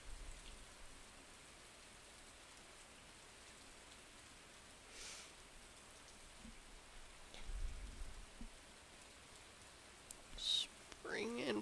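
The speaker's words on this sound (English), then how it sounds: "And it's raining." Quiet, steady rain in Stardew Valley patters softly throughout, with a faint low rumble midway and a few brief chirps near the end.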